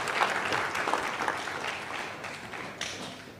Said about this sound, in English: so we will clap for all the contestants